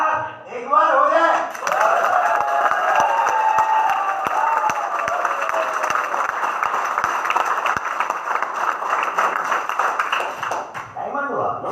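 An audience at a company planning meeting claps together in a sustained burst of rhythmic applause, loud and close, building after a brief opening and fading out near the end.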